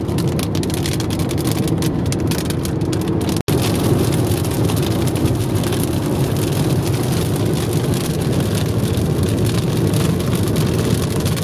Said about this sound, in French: on rentre dans la cellule avec un peu de pluie